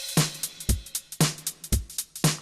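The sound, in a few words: drum beat with double time swing, like old drum machines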